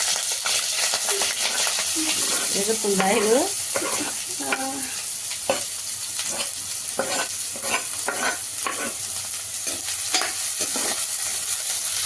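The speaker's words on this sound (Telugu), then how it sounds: "ఇలా మనం కొంచెం ఫ్రై చేసుకున్నాం ఆనియన్స్" Onions and green chillies fry in a pan for an egg roll, a steady sizzle running throughout with a few soft stirring scrapes and clinks breaking through near the start.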